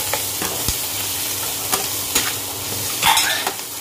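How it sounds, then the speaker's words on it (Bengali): Onions fry in a pan with a soft, steady sizzle close by, broken by intermittent stirring clicks and scrapes and a brief hiss near the end, without speech. "আর পেঁয়াজগুলো ভেজে নিচ্ছি"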